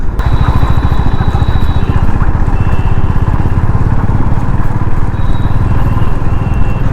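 Honda Highness motorcycle engine while riding with a helmet on, a steady low pulsing thrum with wind noise running throughout, close and fairly loud.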